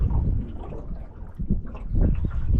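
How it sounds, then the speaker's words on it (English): Steady gusting wind buffeting the microphone on a fishing outing at Nancy Lake, a low rumbling roar that swells and eases, with no voices. "It's windy"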